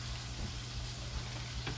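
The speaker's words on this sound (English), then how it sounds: "Place it down on that hot skillet." Toast laid on a hot skillet gives a faint, steady sizzle over a low background hum, with no clear change across the short moment.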